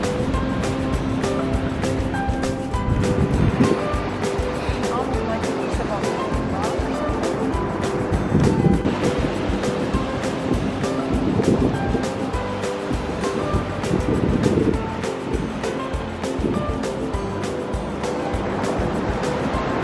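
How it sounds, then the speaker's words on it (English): Ocean surf breaking along the Pacific coast near Pacific City, Oregon, a steady broadband wash of waves heard from a clifftop, with occasional swells rising and falling and a person talking over it. "There's the ocean."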